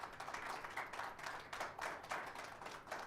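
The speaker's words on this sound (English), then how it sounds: "Let's clap hands for them" An audience clapping hands at a media innovation summit, a soft, steady patter of many claps heard at a distance with no voices.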